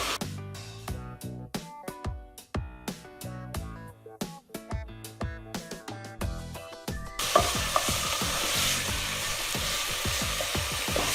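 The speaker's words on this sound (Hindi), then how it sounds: "1 से 2 मिनट के लिए हम इन मसालों को भी अच्छे से फ्राई करेंगे" Powdered spices, including coriander powder and chaat masala, fry in a pan for chicken changezi. A run of rhythmic spoon scrapes and clacks gives way to a dense, steady sizzle.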